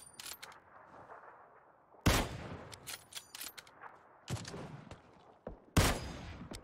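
Gunfire in PUBG, with sharp shots and quick bursts cracking out at irregular moments, some close and loud, others fainter and farther off, separated by quieter gaps.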